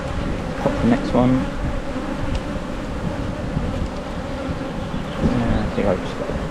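Honeybees in an opened hive, a colony low on stores, buzz in a dense, steady drone close to the microphone, with a few louder passes of individual bees.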